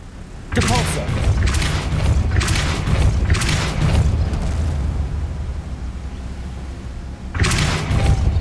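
Depulso spell cast in the video game Hogwarts Legacy, a series of heavy booming force blasts in quick bursts over a continuous rumble, loud and close, with a final burst after a short pause.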